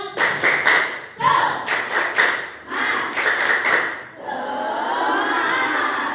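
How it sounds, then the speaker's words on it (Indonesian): A group in an Indonesian classroom-style session performs a rhythmic clapping chant. Bursts of loud, patterned claps come in short sets separated by brief pauses, and a sustained cheer or shout rises after the last set. "tepuk semangat dulu ya. Tepuk semangat."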